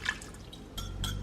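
Egg and water mixture poured into a mixer bowl holding a pecan pie bar baking mix, giving soft wet drips and splashes in short bursts, moderately close and fairly quiet.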